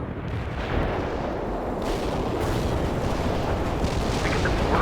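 Incoming artillery fire in the war strategy game World in Conflict: a dense, sustained barrage of rumbling blasts and crackling impacts that roll on without pause, heavy and fairly close, with no talking.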